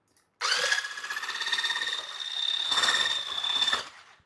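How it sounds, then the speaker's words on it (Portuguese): An electric mixer beats egg whites for a chiffon cake, giving a steady high-pitched motor whir that starts abruptly, holds for about three seconds with a slight change in pitch, then cuts off. It is close and alone, with no talk. "Então a clara eu vou bater."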